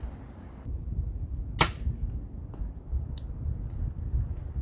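An arrow is shot at a big trophy buck target 75 yards away: one sharp snap of release, then a quieter distant smack of the hit about a second and a half later, over steady outdoor background noise.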